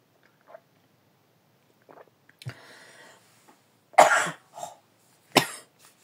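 A few separate coughs, one a short burst of two, with throat sounds and quiet pauses between, close to the listener.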